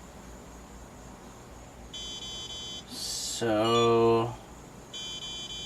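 A low-voltage alarm on a modified FlySky iA6B RC receiver beeps in short, shrill, tonal bursts that repeat at intervals, mixed with a brief louder harmonic tone; one word is spoken briefly.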